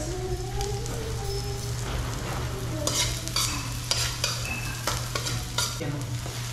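Onion frying in a pan with garlic while cooking laing, a steady close sizzle with scattered crackles and a few stirring scrapes, no voices.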